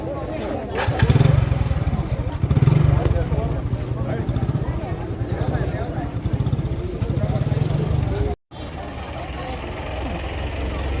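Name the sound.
motorcycle engine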